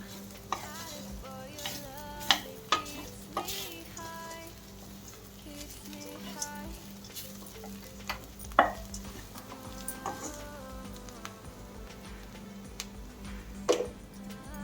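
Carrot fry being stirred in a pan with chilli powder: steady soft sizzle under repeated scraping spatula strokes and scattered sharp clicks of the utensil against the pan, close and moderately quiet, with no talking.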